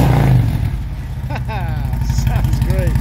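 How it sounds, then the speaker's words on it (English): A Harley motorcycle idles with a steady low thumping pulse in a car detailing shop, with a couple of quick throttle blips. People talk loudly over the engine. "this Harley. Thing sounds really good. Hey, rev that thing up."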